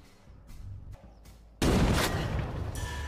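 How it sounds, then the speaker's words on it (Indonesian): After faint quiet sounds, a sudden loud gunshot-like blast bursts in and leaves a rumbling, noisy tail. "Mendengar tembakan tersebut, Beckett segera pergi ke sumber suara untuk"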